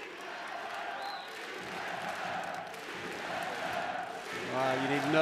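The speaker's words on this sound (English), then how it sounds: "The crowd baying, a huge group of Hungarian supporters who've made the trip here to Novi Sad" Huge group of travelling Hungarian supporters baying loudly at a Spain versus Hungary handball match in Novi Sad, a steady roaring crowd swell that rises toward the end, with a near voice over it.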